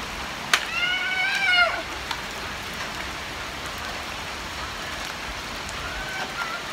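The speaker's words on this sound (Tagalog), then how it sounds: "Ulan na." Steady rain patters on a surface throughout, with a brief burst of a voice or animal cry near the start.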